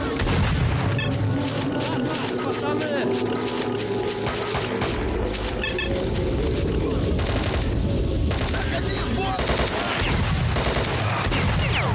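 Sustained gunfire from a firefight in S.T.A.L.K.E.R. Shadow of Chernobyl, dense bursts and rapid shots with booming hits layered continuously, loud and unbroken throughout, with a voice talking intermittently underneath.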